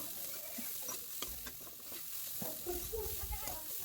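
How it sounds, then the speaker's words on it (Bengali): Carrot, shredded cabbage and a little meat frying in a pan for a winter vegetable soup, a soft, low crackling sizzle with a few stirring scrapes and a sharper clack at the very end. "গাজর পাতাকপি গাজর এবং সামান্য একটু মাংস দিয়ে এখন একটু ফ্রাই করে নেব"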